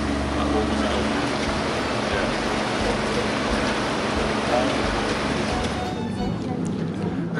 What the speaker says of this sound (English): the ferry had to make several trips to take all the passengers across.